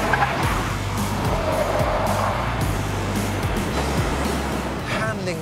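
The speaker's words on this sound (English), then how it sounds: "Just for fun, time for a fast lap." A car driven hard on a fast test lap, its engine droning steadily while tyres squeal briefly, with someone talking over the noise throughout.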